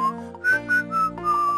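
A clear, close whistled melody from an animated film, several short rising and sliding notes over about a second and a half, alone without talk.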